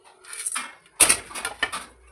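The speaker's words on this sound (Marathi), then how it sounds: "3 मिनटं बारीक आचेवर रोस्ट करून घेऊ, म्हणजे भाजून घेऊ।" Dry fruits are stirred in a pan over a low flame, with a few quick, light scraping and rattling strokes close up, then brief quiet between them.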